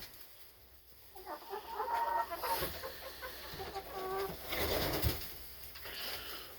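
Chickens clucking inside a chicken coop beside a newly built free-standing nesting box, a fairly quiet mix of short clucks and murmurs with some rustling and knocking.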